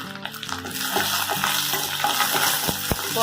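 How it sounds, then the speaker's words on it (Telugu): Red chillies, seasoning seeds, curry leaves and cashews fry in hot oil in a pan, giving a loud, steady sizzle with occasional stirring scrapes and clicks close by. "ఇదే ప్యాన్లో ఇంకో 2 స్పూన్లు ఆయిల్ వేసుకొని ఎండుమిర్చి, పోపు గింజలు, కరివేపాకు, జీడిపప్పు"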